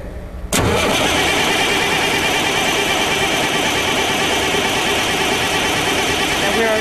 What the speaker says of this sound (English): we will crank the engine.